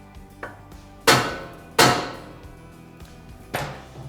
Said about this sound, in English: Use a hammer to hit the knuckle to break it loose.